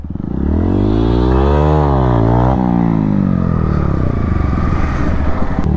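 A Bajaj Pulsar N160 motorcycle revs hard and close during a wheelie attempt, its engine note climbing, peaking and falling back in one continuous loud roar.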